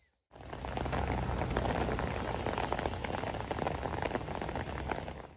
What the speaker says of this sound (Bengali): কিন্তু এইখানে আমরা যেখানে আছি সেখানে এখন খুব বৃষ্টি হচ্ছে